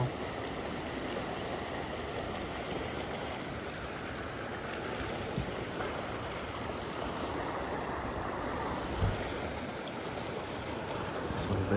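Mountain stream in Sequoia National Forest rushing over rocks, a continuous soft wash of flowing water, steady and moderately distant, with occasional small splashes and bumps.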